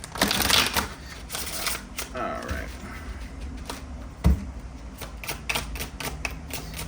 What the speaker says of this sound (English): One more shuffle here, and then we will get into it.